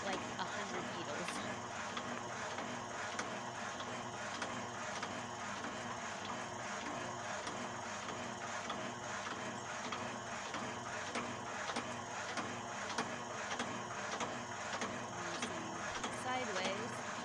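Multi-needle felting machine punching fabric for sheepskin-like work, a fast, steady mechanical chatter running continuously at moderate level while a person talks over it.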